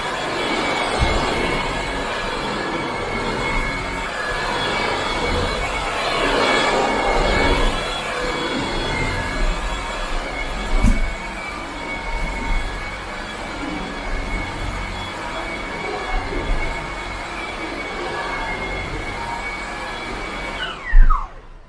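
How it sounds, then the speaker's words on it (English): A 190 AW cordless stick vacuum cleaner running steadily in auto mode, a continuous whirring motor drone with no talk, holding fairly even level throughout before cutting off abruptly at the end. "Now we're just doing auto right now on the vacuum."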